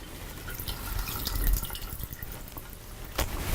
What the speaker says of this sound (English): we're going to drain our rice